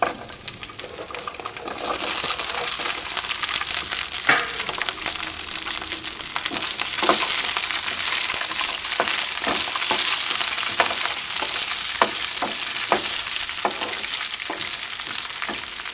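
Garlic, coriander and green chillies sizzle and crackle steadily in a hot pan for a Kerala onion-chilli chammanthi, with occasional sharp ticks and spatters over a continuous frying hiss.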